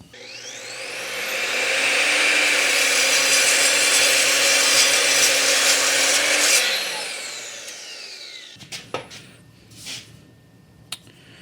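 An Evolution R255 SMS+ miter saw cuts through a heavy, very hard 2.5 by 2.5 inch figured rosewood block. The blade whine spins up, holds loud and steady for about five seconds, winds down, and is followed by a few sharp clicks.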